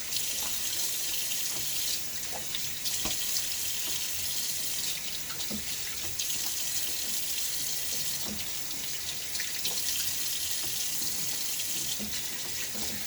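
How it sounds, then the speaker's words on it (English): Tap water runs steadily into a sink while someone rinses their face after a wet shave, a close, even hiss with small splashes and drips and no talking. "A little half rinse now."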